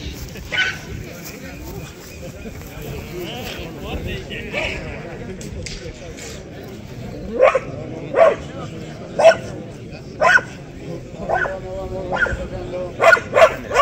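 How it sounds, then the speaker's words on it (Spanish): At an outdoor hunters' and shooters' gathering, a dog barks several times in sharp bursts, clustered toward the end, over steady crowd chatter and background noise. "ese perro blanco y marrón es como la Rufi"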